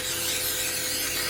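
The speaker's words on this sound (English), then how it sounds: "we're gonna spray literally every speck of these because you do not want the donuts sticking" Cooking spray hissing onto a donut baking pan, one continuous close aerosol spray held steadily for over a second.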